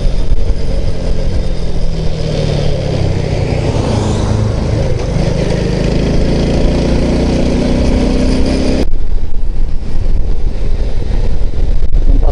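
An Alpha moped engine runs steadily nearby, a loud continuous mid-pitched drone with slight rises in revs, no speech over it.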